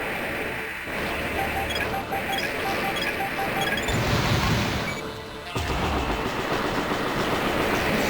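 A train in the video game Armored Core, with a continuous rumbling clatter of rolling rail cars, loud and close, a brief dip then resuming, alongside faint metallic clinks and game sounds.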